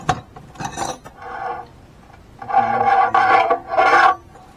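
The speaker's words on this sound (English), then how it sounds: "That was a flat second cut file I was using." A flat second cut hand file is drawn along a machete blade in loud close rasping strokes, first a few short scrapes, then three longer, harsher passes with gritty metallic tone, separated by quiet gaps.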